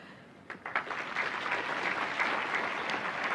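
An audience applauds the President of Botswana, Advocate Duma Boko, at a technical and vocational education event; the clapping begins with a few scattered claps and swells into steady, dense applause.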